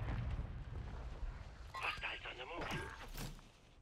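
Grenade blasts in Call of Duty, a low rumbling boom and thuds churning underneath while voices talk over the top, fairly faint overall.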